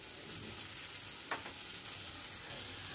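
Chopped tomato tumbling into a pan of onions already frying until golden, giving a steady, even sizzle with a brief louder splash at one point and no voices.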